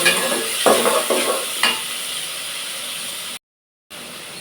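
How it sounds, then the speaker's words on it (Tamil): Onions and tomatoes sauté in a pan for a drumstick and brinjal sambar. A loud, steady sizzle carries a few scraping stirs before a short moment of silence, then the hiss returns. "அதுக்கப்புறம் கட் பண்ண தக்காளி போட்டுக்கலாம். இதையும் நல்லா வதக்கிடலாம்."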